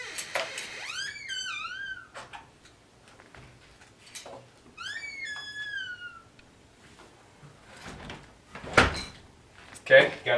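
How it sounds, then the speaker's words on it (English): A door opens with a couple of short knocks and clunks near the end, after long whistling bird-like chirps, with a person talking in between. "So now you open up your door"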